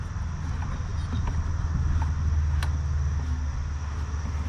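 A Briggs & Stratton lawn mower engine is cranked over a couple of times, a low, steady mechanical rumble with a few faint clicks and knocks.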